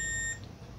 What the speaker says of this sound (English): find out if there is any beep on the IC itself